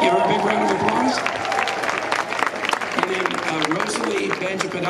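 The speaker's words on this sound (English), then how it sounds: "Give her a big round of applause." A crowd at a 2016 Democratic political rally in Gainesville, Florida claps and cheers, lively mixed applause with some voices rising through it for several seconds.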